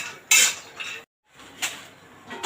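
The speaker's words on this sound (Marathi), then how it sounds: "हे तर सगळं ड्राय आहे ते फक्त मी भाजून घेत आहे" Cashews and almonds dry roasted in a metal pan, a spoon scraping and clinking against the pan in short bursts with a brief silent gap between strokes.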